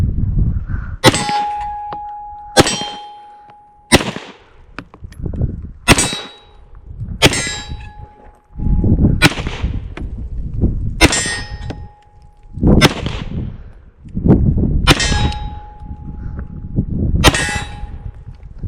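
Glock handgun fired strong-arm at a steel target, about nine sharp shots, each followed by a ringing metallic clang, spaced roughly one to two seconds apart and loud and close.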